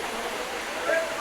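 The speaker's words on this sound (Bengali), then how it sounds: "ঝর্ণাটা ওই ওপর থেকে এসে এইখানে এসে পড়ে ছড়ায় যাচ্ছে" Water from Napittachora waterfall on the Mirsarai–Sitakunda trail splashes down, heard from the base as a dense, steady rushing roar filling the brief moment.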